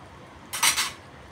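A utensil briefly scrapes and clinks in a pan while pancit noodles with sardines and salt are stirred, one short metallic burst of about half a second over faint room noise.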